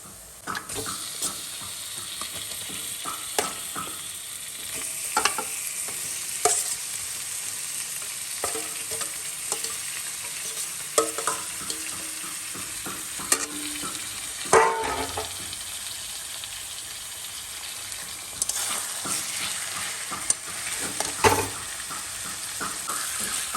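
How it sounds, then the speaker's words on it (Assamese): Steady sizzling of marinated chicken frying in oil for a dum chicken curry, with repeated scraping and stirring clatters from a utensil against the pan, close and fairly loud throughout. "আমি চিকেনখিনি ভালকৈ ফ্ৰাই কৰিব লাগিব তেলত"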